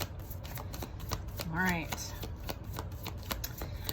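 A Shadows of Light tarot deck is shuffled by hand in a quick run of crisp card riffles and flicks, with a person speaking briefly over the shuffling.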